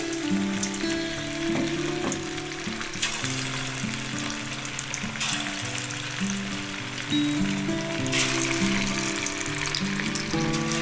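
Chicken pakoda pieces deep fry in hot oil with a loud, continuous sizzle and crackle, close by, while steady background music plays underneath.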